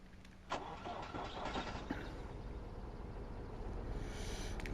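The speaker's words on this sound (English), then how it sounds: "let's start the engine" A truck engine cranks and catches in the video game Truck Driver: The American Dream, then settles into a low steady idle, faint overall with no speech.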